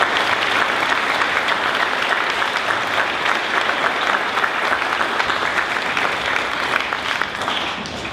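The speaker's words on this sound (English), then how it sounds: "please give them a round of applause" A school assembly audience applauds for veterans' family members, a dense, steady wash of many hands clapping that holds loud and unbroken for about eight seconds before easing slightly at the end.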